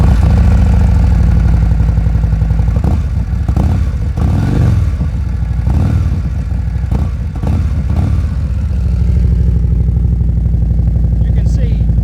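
A 2023 Harley-Davidson CVO Street Glide with a Werks 4.5 HP Plus slip-on exhaust fires up from cold and idles with a deep, loping rumble, blipping the throttle a few times into louder revs before settling back to idle.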